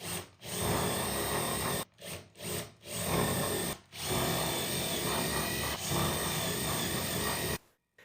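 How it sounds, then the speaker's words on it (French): A power drill bores holes through ceiling fan blades, running loud and steady in several long bursts separated by brief stops, with no talking. "puis je perce des trous dans chacune d'elles."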